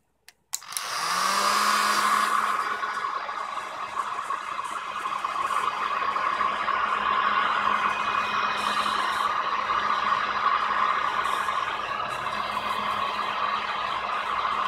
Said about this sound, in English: I'm going to use a hairdryer to blow hot air onto the temperature sensor.